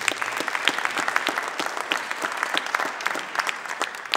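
Audience applause for volunteers at the close of a live hypnosis stage show, a steady, dense burst of clapping filling the room from start to finish.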